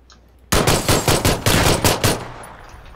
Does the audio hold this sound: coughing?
no